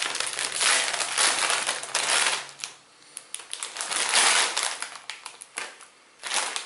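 A bag of Doritos Poppin' Jalapeno chips is torn open, giving loud, close bursts of crackling, crinkling plastic in several rustling spells with brief pauses between them.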